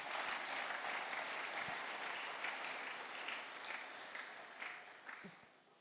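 A church congregation claps and cheers in praise of the Lord, a broad, sustained wash of applause filling the room at moderate level with a few sharper claps standing out near the end.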